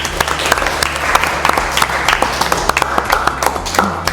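An audience in a university lecture hall applauds, with brisk scattered clapping holding steady for several seconds before fading slightly at the end.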